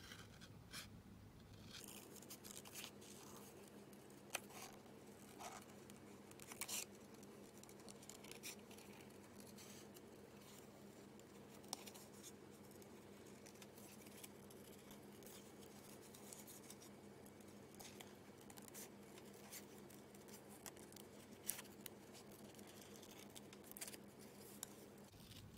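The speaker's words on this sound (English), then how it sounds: "I'm gonna fussy cut him out quickly" Scissors fussy cutting a paper card image, heard as very faint, intermittent little snips and paper rustles over a low steady room hum.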